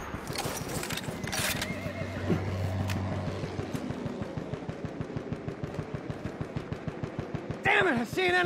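A horse neighs and whinnies with rapid hoofbeats in a war video game, amid rhythmic mechanical clatter and gunfire, ending in a loud whinny near the close; no speech is evident.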